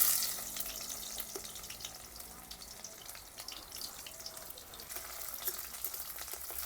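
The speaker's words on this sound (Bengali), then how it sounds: "এখন কেটে রাখা পেঁয়াজগুলো দিয়ে দেব।" Chopped onions go into mustard oil already seasoned with dried red chilli and whole cumin, producing a steady, moderately quiet frying hiss with scattered small crackles and pops throughout.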